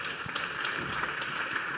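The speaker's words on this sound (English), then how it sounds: "Round of applause for our panel." Audience members at a local government good-practice seminar applaud a panel, a brief, continuous patter of many hands clapping at moderate level, alone without talk.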